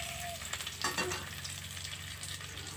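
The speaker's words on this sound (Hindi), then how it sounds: "यहाँ पे देखिए 4 फ़ोरन चटक चुका है, तो हम यहाँ पे कड़ी पत्ता डाल देंगे।" Curry leaves, asafoetida and red chilli crackle and sizzle in hot oil for a kadhi tempering, a continuous close hiss broken by a few louder spattering pops.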